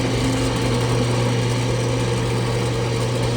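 A drill press motor runs at a steady pitch, a continuous loud hum with a strong tonal drone and no change in speed, heard alone without talking.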